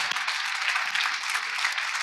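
A church congregation applauding together during a worship service, a steady, dense wash of clapping that holds at an even level for the whole short stretch.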